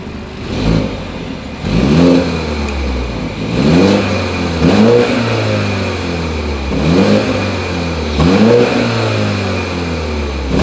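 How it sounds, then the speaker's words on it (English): A 2020 BMW 530i's exhaust revs repeatedly, about five throttle blips that each swell into a loud, rising roar and then fall back to a steady idle, recorded close with no talking. "As always, here is that exhaust clip."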